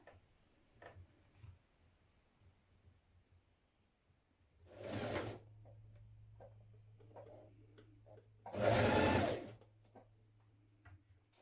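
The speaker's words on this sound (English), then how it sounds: "Now we're going to stitch our bodice front and back together at the shoulder seams." A sewing machine stitches a dress bodice front and back together at the shoulder seams in two short close bursts of rapid whirring, separated by quiet handling clicks and fabric rustle.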